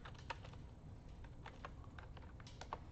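Quiet, steady typing on a computer keyboard, a continuous patter of soft key clicks with a few sharper taps, no voices.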